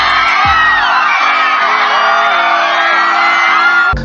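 A Latin Grammys audience cheers and whoops for a performer, a loud, sustained roar of many voices lasting about four seconds, with low steady musical tones running beneath the crowd.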